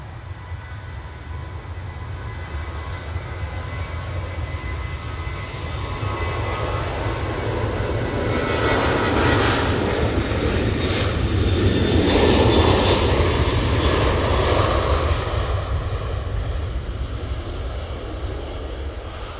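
A Ryanair airliner takes off at Manchester Airport, its jet engines a loud, steady roar that swells to a peak midway and then eases slightly, with no voices over it.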